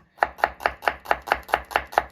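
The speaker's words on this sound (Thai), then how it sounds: "แล้วก็กระเทียม เรา ก็หั่นเป็นแว่นๆแบบนี้ นะคะ" A knife slices shallots and garlic into thin rounds on a board, about nine crisp, evenly spaced cuts in quick rhythm, close and clear with no talking.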